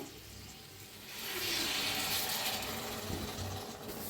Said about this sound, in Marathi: आता थोडंसं पाणी घेतलेलं आहे.